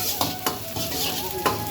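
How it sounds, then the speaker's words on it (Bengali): Garlic and ginger fry in a hot pan, a steady sizzle broken by a few sharp scrapes and clinks of a utensil stirring against the metal, close up with no voices. "জিনিসটা গার্লিক আর জিঞ্জারটা ফ্রাই করে নেবো একটু।"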